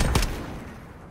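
A single close FAL rifle shot in the shooter Modern Warfare, a loud sharp crack that quickly fades into a decaying echo.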